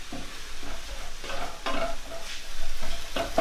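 Minced meat sizzles in a hot pan while being stirred and broken up, with rhythmic scraping strokes of a utensil over a constant close frying hiss.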